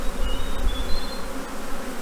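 Steady, dense buzzing of many honeybees at an open hive close by, a continuous droning hum with faint higher whines drifting through, no voices.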